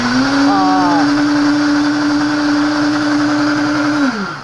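A detox juicer-blender grinds tomatoes for juice, giving a loud, steady motor whine with a brief pitch wobble near the start and a drop as it winds down at the end.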